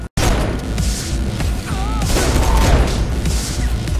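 Gunfire in the Saints Row IV video game, shots aimed at a target's rear panels, comes as a loud dense burst of rapid shots and booms that carries on without a break after a brief cutout at the start.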